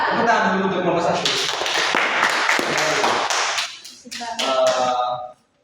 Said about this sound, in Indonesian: Tepuk tangan dulu untuk nomor satu.